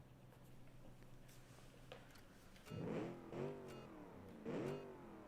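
A 1967 race car in BeamNG launching from the start line, its mid-pitched engine revving hard in three rising surges after a quiet idle, heard faintly at a distance.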